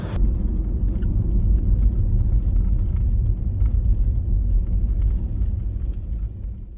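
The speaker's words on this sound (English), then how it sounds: "I'm driving along the shoreline of Loch Ken here" A car drives along a loch shoreline, with a steady low engine rumble and road drone heard from inside the cabin, continuous and fairly loud without talk.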